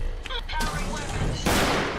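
Gunfire in the modded video game Fallout 4: two sharp bursts of shots crack out a moment apart, fairly loud and dense, with faint game voices in the background.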